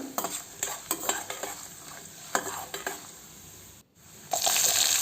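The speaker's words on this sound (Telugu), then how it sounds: "తర్వాత 1 స్పూన్ వరకు ఆవాలు, 1 స్పూను జీలకర్ర, తర్వాత పల్లీలు కొద్దిగా ఎక్కువగానే వేసుకున్నానండి. ఇవంతా దోరగా వేగేంతవరకు వేయించుకుందాం." Mustard seeds, cumin and peanuts frying in oil for tomato pulihora, crisp sizzling with irregular stirring scrapes and rattling, a brief pause near the end before louder sizzling resumes.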